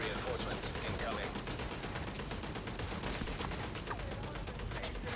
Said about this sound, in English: These turrets are crazy